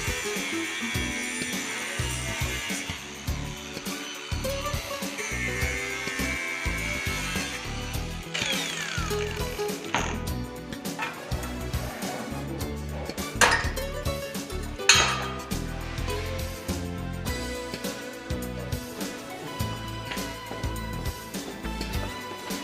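A metal welding workpiece is cut with a power tool, giving a continuous loud, close grinding and whining noise for over twenty seconds, with metallic clinks and a couple of sharper bangs partway through.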